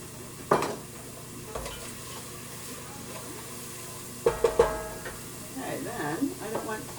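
Chopped celery goes into a soup pot for homemade chicken alphabet soup, bringing scattered clatters of stirring and a soft sizzle that swells with clinking near the end, quiet overall with brief talk.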